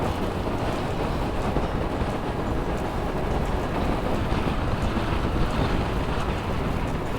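Strong, cold wind gusts roar steadily across the microphone in a snowy landscape, a continuous dense rushing noise with buffeting that never lets up and no voices.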